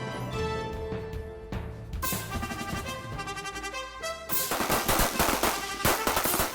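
Rifles fire at the Vintage Sniper Competition at the CMP's Talladega Marksmanship Park, Range 1, with sharp shots cracking out over loud music, growing denser toward the end.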